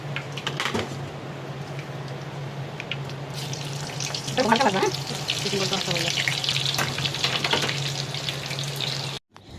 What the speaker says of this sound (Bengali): এইবার দাও এই যে চিকেন বলগুলা দিয়ে দাও